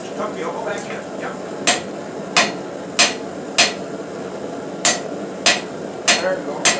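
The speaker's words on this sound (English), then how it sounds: "Now when you hammer straight down," Hammer blows ring sharply on hot metal at a blacksmith's anvil in a home shop, eight or so distinct, evenly spaced strikes, each a bright metallic clang with a short decay, loud and close, with a faint low background.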